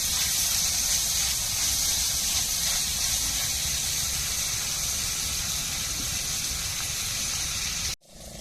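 Tomatoes sizzling in a hot pan while cooking a dosa side dish, a loud, constant bright hiss that carries steadily before abruptly cutting off near the end.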